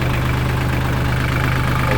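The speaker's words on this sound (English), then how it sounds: "she fires up" A 2008 New Holland T1520 tractor engine runs at a steady idle, a loud, close, continuous diesel rumble with a low droning pulse throughout.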